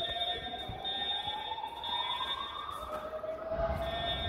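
An Edwards Integrity fire alarm sounds continuously during a test, a steady high electronic tone with a rising sweep layered over it, close and loud throughout with no talking.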